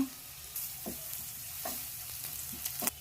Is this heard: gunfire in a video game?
no